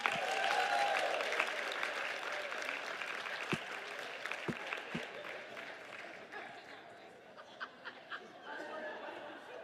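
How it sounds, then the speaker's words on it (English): Audience applause for Donna at a leadership summit, sustained clapping with light laughter and chatter from the crowd, fading gradually into scattered claps. "Can we have another round of applause for Donna?"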